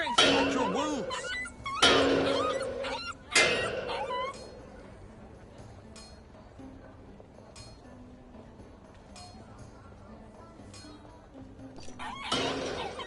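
A dog in the video game The Inquisitor whimpers and yips in a few sharp bursts, then softer intermittent whines under faint background sound, with a voice speaking at points.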